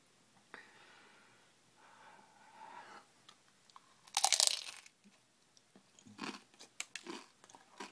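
Bites into crunchy, greasy fried food give sharp, loud crunches, with softer chewing and a few clicks around them and a quiet voice speaking in between.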